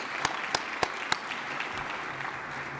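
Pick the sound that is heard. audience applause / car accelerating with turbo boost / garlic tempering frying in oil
audience applause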